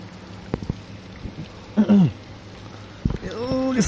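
Rain keeps falling in a thunderstorm as a soft, continuous wash, broken by a few sharp knocks and a couple of short vocal sounds nearby.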